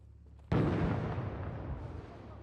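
A grenade blast in the Six Days in Fallujah video game: one sudden, loud, booming explosion that hits hard and then rolls off into a long, rumbling decay, with no talk.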